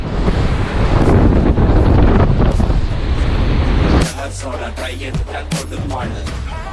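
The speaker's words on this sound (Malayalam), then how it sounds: "കടൽക്കാറ്റ് ഇതാണ് കടൽക്കാറ്റ്" Sea breeze at Baga beach in Goa buffets the microphone in a loud, rushing roar for about four seconds, then drops to a lighter gusting hiss as voices talk over it.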